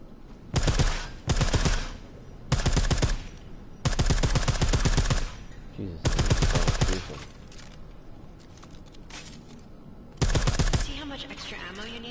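Silenced weapon fire in Deus Ex, heard as several loud rapid bursts separated by short quiet gaps, each burst a dense string of clattering shots.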